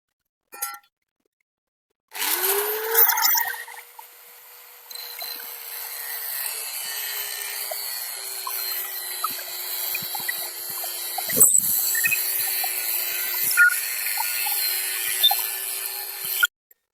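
Power tool cutting a metal piece crosswise while building a simple feed grinder, with a steady whining buzz that starts sharply and runs continuously for about fifteen seconds, close and fairly loud, with one brief dip partway through.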